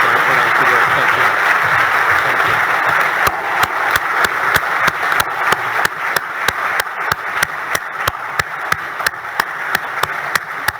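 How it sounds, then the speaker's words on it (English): Large audience applause for Paul Litherland at the 2022 WA Australian of the Year awards, a broad sustained wash of clapping and cheering with sharp repeated cracks growing louder near the mic over about eleven seconds. "Let's give him a huge round of applause."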